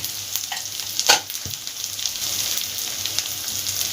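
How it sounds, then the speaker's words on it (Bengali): Spice paste with Kashmiri chili powder, salt and sugar being sautéed in a pan for a Bengali catla fish curry. A loud, steady sizzle runs throughout, with a few scraping stirs near the start and no voices. "এবার ভালোভাবে মশলাটা কষিয়ে নিতে হবে"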